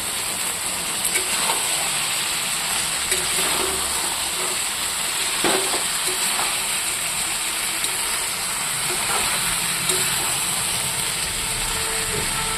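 Chopped vegetables fry in a pan for a fish dish, producing a continuous, even hiss of hot oil with a few faint clinks and scrapes over the whole stretch.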